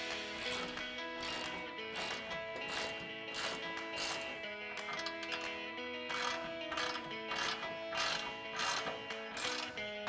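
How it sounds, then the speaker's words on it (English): A 16 and 17mm ratcheting wrench tightens bolts on a front bumper of a 2007-2013 Silverado 1500, giving a quick, even run of ratchet clicks throughout, close and clear. "then I'm going to take a 16 and 17mm ratcheting wrench"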